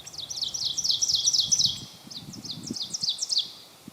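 Two ovenbirds sing in quick succession, loud, ringing repeated phrases that overlap and nearly merge into one song, with a brief pause midway and a faint low rustle beneath.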